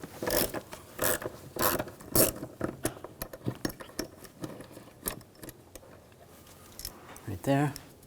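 Ratcheting clicks of a 5mm hex socket turning out valve cover screws on a 2007-2013 BMW X5 3.0L inline-six, close and irregular, with scraping and metal handling between bursts.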